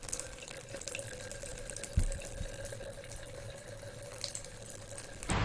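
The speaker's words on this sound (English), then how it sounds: "this is water from about 30 to 40 centimeters" Water pours from about 30 to 40 centimeters in a steady splashing stream, faint and continuous, with one brief knock partway through.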